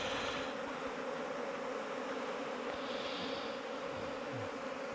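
Honeybees hum and buzz continuously around a hive as it is being smoked, a steady dense drone at close range with no talking.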